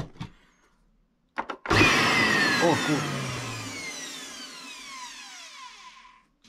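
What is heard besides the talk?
Chinese 1400 W vacuum cleaner motor running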